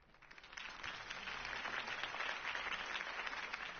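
Crowd applause in Batman: The Telltale Series follows a campaign speech, a dense, steady wash of clapping from many hands at moderate volume lasting several seconds.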